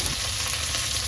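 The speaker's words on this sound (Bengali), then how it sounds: "মা তো এদিকে এই যে মাছ ভাজা বসিয়ে দিয়েছে" Fish frying in a pan on a gas stove, a steady broadband sizzle holding level without pause through a short stretch, close and moderately loud, with no voices.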